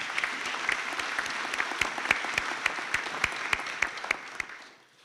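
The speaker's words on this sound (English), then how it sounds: "Please can you give a round of applause to the graduating class." A graduation audience claps for the graduating class, a brisk round of applause with distinct sharp claps standing out, steady for several seconds before quickly fading away.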